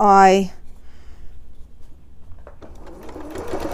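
A sewing machine stitches a quilt seam in a short buzzing burst at the start, then stops, followed by quiet handling sounds.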